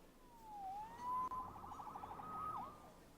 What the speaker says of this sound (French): Sauvé par les sirènes